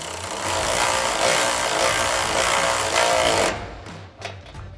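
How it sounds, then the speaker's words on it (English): A power tool runs in a loud, steady buzzing rattle under a Jeep Wrangler JL while step bar mounting bolts are driven, then stops abruptly, leaving a few quieter knocks and clicks. "we're gonna use a 16mm swivel socket on our ratchet and a 17mm wrench for our lock nut"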